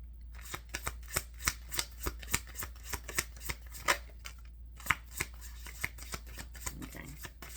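A tarot card deck is shuffled in quick repeated bursts of riffling and tapping, a dozen or so crisp card flicks close to the microphone in a quiet room.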